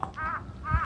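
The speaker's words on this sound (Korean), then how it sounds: "까마귀인데?" A crow caws outdoors beside a mountain-bike trail in Korea, two drawn-out harsh calls at moderate distance against faint background noise.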